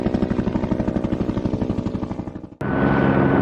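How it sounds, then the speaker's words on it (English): Fast, heavy tiltrotor aircraft rotor chopping pulses evenly, fading slightly before switching abruptly to a loud, continuous engine roar with a high whine. "Tilt rotor helicopter."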